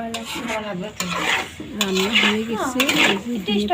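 A spoon scrapes and clinks against a cooking pot as pasta with cheese is stirred, giving repeated close metallic scraping under people talking.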